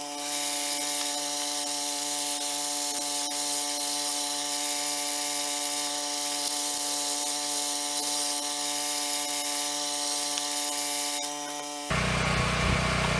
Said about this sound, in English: we will drill our pinholes